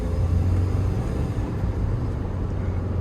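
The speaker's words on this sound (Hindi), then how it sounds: "ये जो साउंड है ना, इससे प्यार है भाई, डीजल इंजन का रोर है" A Toyota Fortuner diesel engine idles with a low, steady, throbbing rumble, close by and continuous for a few seconds.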